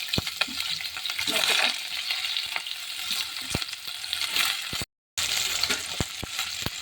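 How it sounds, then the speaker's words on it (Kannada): Spice masala with garlic and ginger frying in five spoons of oil in a cooking pot, a steady close sizzle with crackles and sharp clinks of a spoon stirring against the pan, broken by one brief silent gap. "ಮಸಾಲೆಯನ್ನು ಹುರಿದುಕೊಳ್ಳಬೇಕು"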